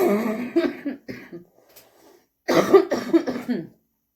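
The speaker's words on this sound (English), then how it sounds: "you can see, I have a cough." A person coughs in two bursts, a short one at the start and a longer, rougher spell after a pause, close to the microphone.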